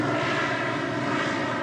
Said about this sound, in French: C'est un avion qui est un peu délicat à piloter.